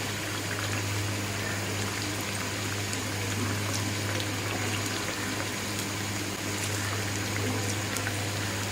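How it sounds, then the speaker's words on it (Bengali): Chicken and prawn chops fry in oil in a pan over a lowered flame, giving a steady, continuous sizzling hiss throughout with no talking. "উল্টানোর পর ওই পাশটাতেও জালটা কমিয়ে ভেজে নিতে হবে।"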